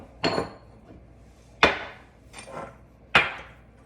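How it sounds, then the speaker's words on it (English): A fork mashes a miso dressing made with black pepper and oil, striking the bowl in four crisp, separate clinks spaced about a second apart, close up, with quiet between them. "I just kind of mash it with a fork first"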